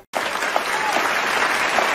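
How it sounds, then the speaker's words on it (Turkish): Steady applause from a studio crowd fills the whole stretch at a loud, even level after a brief silent moment, with no voices heard over it. "Bir alkışlayalım."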